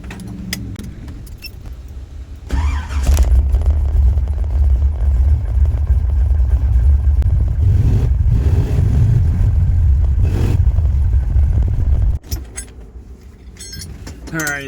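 A car with a hydroboost brake repair cranks and fires up, then runs loudly at a rough, steady idle before cutting off abruptly, with keys jangling and brief clatter around the start.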